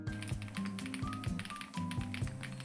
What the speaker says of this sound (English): But you guys like the sound of this keyboard?